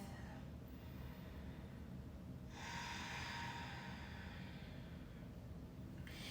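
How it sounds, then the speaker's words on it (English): Yoga breathing with palms at the heart center, a soft slow inhale then a longer audible breathy exhale close by, calm and quiet with no talking. "Breathe in and breathe out. Good, one more breath."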